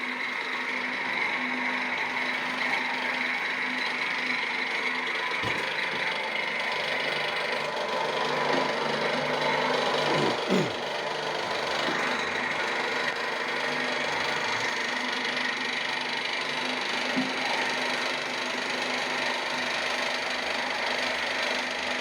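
A soap extruder at work in Africa pushes out thick strands of soap with a steady, loud mechanical drone and rattle that runs unbroken throughout, with a few brief knocks and no talking.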